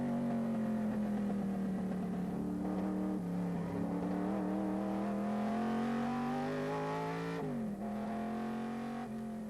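Racing cars including a Ford GT40 on track at the 1997 Tour Auto, a loud sustained engine roar with rising and falling revs through gear changes and a sharp dip near the end.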